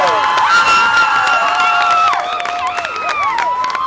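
A concert audience screams, cheers and whoops loudly after a live performance, with shrill high voices sustained and dense throughout.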